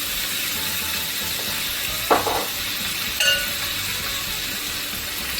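Onion and seasoning for Nigerian fried rice sizzle steadily in a hot pan, a continuous close hiss broken by two brief clinks of a utensil against the pan.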